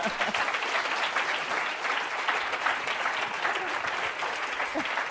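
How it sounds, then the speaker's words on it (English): A lecture audience at a Wharton leadership event breaks into sustained, dense applause that holds at an even level throughout. "please give a final round of applause to William Lauder and Judy Rodin"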